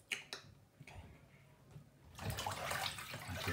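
Water poured over an oil-coated Raspberry Pi, starting with scattered drips and splashes before a louder, continuous pouring rush takes over for the second half.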